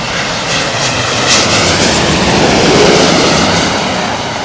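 Jet engines of a Boeing 787 Dreamliner in Vietnam livery run with a loud, steady roar and a rising whine, heard close up without talk.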